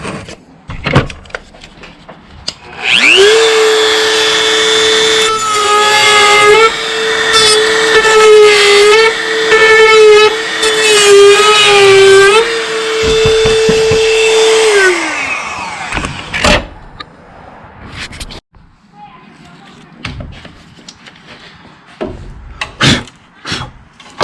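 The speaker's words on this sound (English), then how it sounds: "I've already dremelled one off. I wanted to practice. Let's get the other 3 off." Dremel rotary tool grinding raised bumps off the back of a clock, a loud high whining buzz lasting about twelve seconds with shifting pitch as it bites, then stopping and leaving quiet handling clicks.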